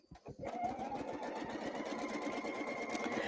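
A sewing machine stitches a quilt seam in single-layer piecework, running steadily and close at an even rapid rhythm from just after the start, with no talking.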